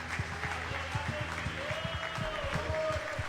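Rhythmic clapping from a church congregation during a Sunday evening family worship service, in rough unison beats, with music and voices underneath.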